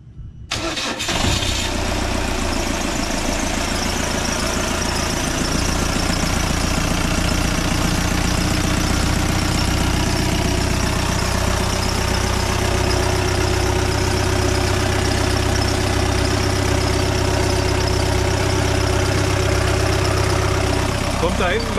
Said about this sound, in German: Und jetzt wird der Glenn gleich den Motor starten.